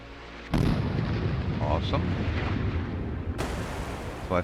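In the Sea Power naval game, a warship's weapons fire automatically at incoming missiles: a loud launch roar that keeps rumbling, then a second blast near the end, with a faint voice partway through.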